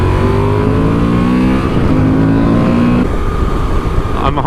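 A 2024 Honda Transalp 750 motorcycle engine revs and accelerates hard, its loud droning tone climbing steadily in pitch and then dropping as it shifts, all heard from the rider's position with wind rushing over it.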